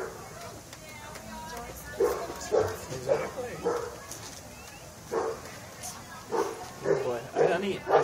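A dog barks repeatedly at kids nearby on a Halloween evening, sharp yipping barks in irregular bursts, with people talking in the background.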